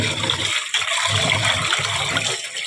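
Tap water gushes and splashes into a pot of rice in a home kitchen, a loud, continuous rushing pour with shifting sloshing as the grains are rinsed.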